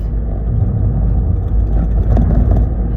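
A car engine hums steadily from inside while driving, a low continuous rumble with road noise, loud and close throughout with no talking.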